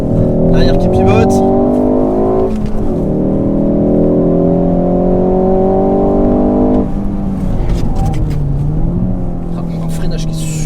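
Driven hard on a race track, a 2019 Ford Focus ST roars loudly from inside the cabin, its engine pitch climbing, dropping at gear changes and climbing again for about ten seconds while someone talks over it.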